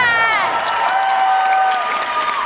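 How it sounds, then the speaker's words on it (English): A rally crowd at a progressive political event in Florida claps and cheers loudly, a continuous wash of applause with whistles and rising shouts riding over it, heard close and filling the whole moment. "Will you give all of them a round of applause?"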